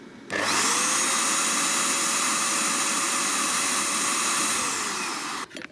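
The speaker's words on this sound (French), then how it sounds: "Donc le pistolet de peinture, le Tecpo," A Tecpo electric paint spray gun, running at about 500 watts off an EcoFlow River Pro battery station, whirs into a loud, steady high-pitched motor whine with an airy hiss, holding constant for about five seconds before abruptly cutting off.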